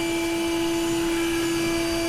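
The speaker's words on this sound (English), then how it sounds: "So I'm fixing to vacuum a cluster in here." A bee vacuum runs with a steady, loud droning whine and a strong tonal hum while sucking up a cluster of bees inside a wall, continuous throughout, with no talking.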